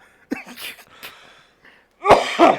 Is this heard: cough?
yes